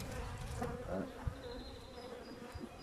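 A dense, steady buzz of many honeybees swarming close by as they rob a dead hive, continuous humming with scattered individual wingbeats passing near.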